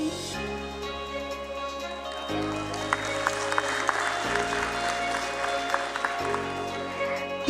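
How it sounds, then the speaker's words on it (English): Audience applause welcoming a chairman at a stock exchange listing ceremony, scattered clapping rising over a loud sustained music track with tonal chords. "With a big round of applause, let's welcome Shri Parveen Kumar Gupta, Chairman, NSDL."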